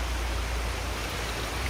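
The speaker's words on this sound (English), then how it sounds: "This is a Temurun waterfall in the Malaysian island called" The Temurun waterfall on Langkawi island, Malaysia, pours in a steady, dense rush of falling water, a continuous broadband hiss heard close and alone.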